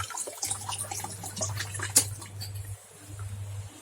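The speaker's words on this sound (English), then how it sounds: "If I turn on, the water pump will be turned on. It will start spinning the hydro power, the DC motor." A small water pump runs and spins a DC motor hydro generator, giving a low steady hum for a few seconds under light splashing and trickling water.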